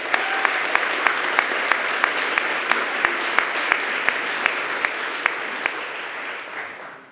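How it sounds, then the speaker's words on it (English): An audience at a science communication competition final gives the whole event team a round of applause, with full, sustained clapping throughout that carries a few sharper claps on top and tapers off at the very end. "So let's have a round of applause for the whole team."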